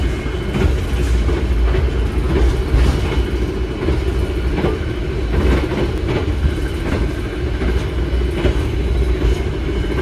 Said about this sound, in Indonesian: Cuman ya emang lebih berisik aja sih, jedaknya lebih kedengeran dibandingkan kereta yang stainless steel ataupun yang new generation